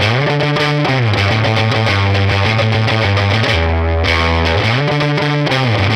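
Electric guitar run through a Woodrow 55 amp boosted and bridged into heavy fuzz-like distortion, playing loud sustained chords and riffs continuously with a thick, saturated tone.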